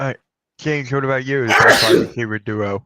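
A single sharp sneeze bursts out mid-sentence during a sports-talk conversation, loud and close, with a man's speech before and after it.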